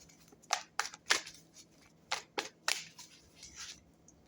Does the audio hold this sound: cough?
no